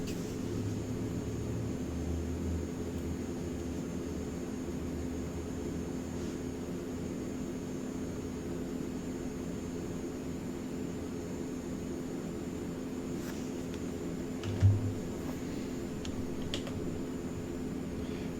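Steady, droning engine noise from a C-160R Transall aircraft in the Flight Simulator 2024 game, a constant hum that holds for the whole stretch, with a faint click near the end.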